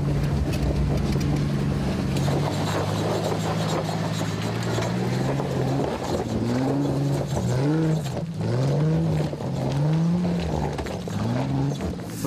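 A Jeep's engine labours off-road as its wheels lose grip, droning loudly with repeated rising and falling revs as the tyres spin, wind noise running throughout.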